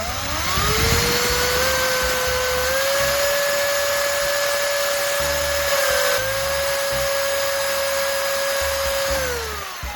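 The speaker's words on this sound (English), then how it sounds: "I'll gently press the spinning stone against the rusty surface of pliers, focusing on the areas with the most buildup." A spinning grinding stone whines at a steady high pitch while it is pressed against rusty pliers, loud and close, with the tone dipping slightly as the load changes and faint scraping underneath.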